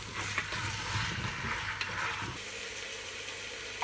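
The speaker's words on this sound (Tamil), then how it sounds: "இப்போ பொட்டேட்டோவும் போட்டு வதக்கலாம்" Potatoes sizzle and crackle in a pan while being sautéed for a butter bean and potato masala, a steady close frying hiss with light stirring.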